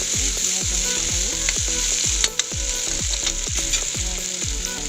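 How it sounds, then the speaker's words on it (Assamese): Chilli, onion and garlic frying in a pan, giving a loud continuous sizzle with rapid rhythmic scraping strokes of a spatula close by. "এতিয়া দিওঁ জলকীয়া, পিঁয়াজ আৰু নহৰু,"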